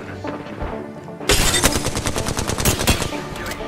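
Rapid automatic gunfire in the video game Apex Legends, a sudden dense burst of repeated loud shots starting after a quieter moment and continuing to the end.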